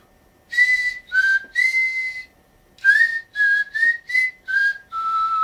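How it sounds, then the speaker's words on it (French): A person whistles an opera aria solo, clear sustained notes in short phrases with brief pauses between, close and loud against a silent background. "je parlais de ces airs d'opéra, que je sais siffler"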